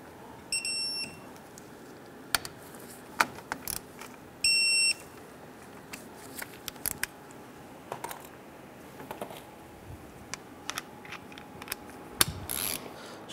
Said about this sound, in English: Going to tighten down these two bolts to 25 foot-pounds.